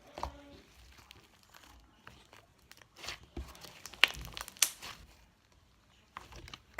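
Soft slime squeezed and worked by hand gives close, quiet crackling clicks and sticky snaps in uneven bursts, with a few louder pops midway.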